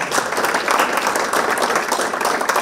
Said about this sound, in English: Could you guys give Mandy one more round of applause?